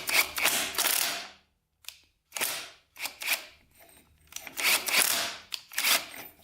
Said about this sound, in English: found the flywheel puller. The threads are pretty messed up on the flywheel, so we'll see if this thing can pull it out